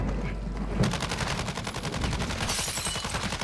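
Rapid automatic M4 rifle fire in a first-person shooter video game, a long unbroken burst of loud, evenly spaced shots that carries on through the whole stretch.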